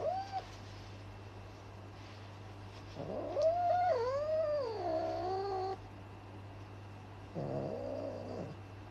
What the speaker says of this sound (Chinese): 这就是为什么我讨厌给猫咪剪指甲